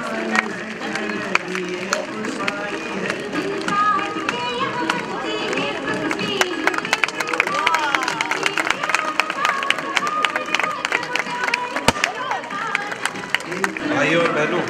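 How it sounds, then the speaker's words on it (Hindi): An audience claps through a nameplate ribbon-cutting at the grand opening of a Brahmakumaris meditation centre in Titwala, the scattered clapping building into dense applause under constant crowd chatter and voices. "आप सभी तालियों का साथ देंगे।"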